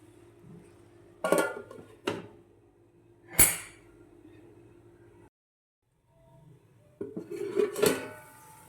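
A metal pot of radish leaf curry simmering on low heat gets handled and covered with its lid: a few sharp close clanks and knocks spaced apart, a gap of quiet, then a rattling clatter.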